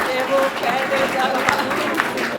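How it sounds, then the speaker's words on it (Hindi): Women in a kavi sammelan audience applaud loudly, a dense burst of clapping running throughout under a voice speaking over it. "महिलाओं ने बहुत जोर से तालियां बजाई"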